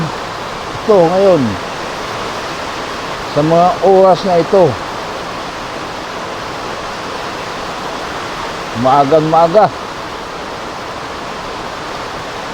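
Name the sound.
heavy rain falling outside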